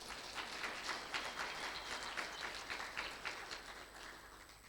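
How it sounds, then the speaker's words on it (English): An audience claps at a graduation ceremony, a fairly faint, sustained patter of many hands with slightly irregular swells that begins to fade toward the end. "a round of applause for that"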